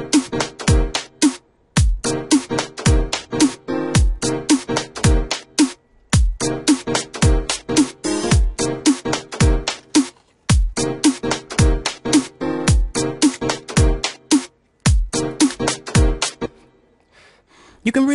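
A slap bass chord loop from an E-MU Proteus VX in Ableton plays together with a drum beat, giving loud, dense, steady rhythmic hits. Short pauses break up the groove at a few points.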